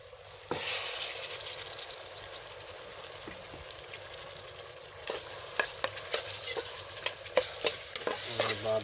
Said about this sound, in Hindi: अभी डालेंगे टमाटर।